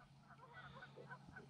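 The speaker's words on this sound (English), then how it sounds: "hearing the geese" Distant geese honking over a foggy mountain lake, a handful of faint scattered calls above a low steady hum, heard from a canoe.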